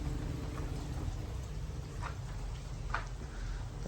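Steady rain falls in a soft continuous hiss, faint and even, with a few scattered drip taps standing out and no voices.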